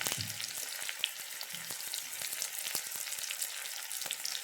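Beef, dried red chillies and sliced shallots stirred in a hot pan sizzle continuously and close up, with scattered crackles and spatula scrapes. No one speaks.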